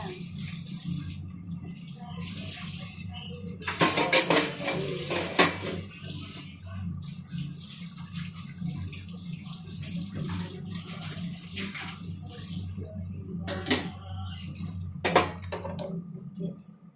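Dishes are washed by hand with running water, with pots and cutlery clattering and knocking in irregular bursts under a steady watery wash, and a voice is faintly present.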